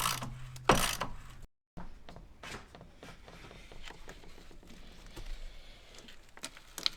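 A long 13 mm socket on a ratchet wrench removes the battery hold-down bolt in a Jeep Patriot or Compass, with quick repeated ratcheting clicks in short bursts, close and fairly quiet, broken by a brief silence.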